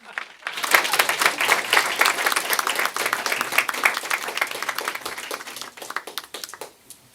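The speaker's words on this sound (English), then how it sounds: "Another round of applause." Audience applause for panel speakers at a talk event, a dense crowd of hand claps that swells quickly, holds steady for several seconds, then thins out toward the end.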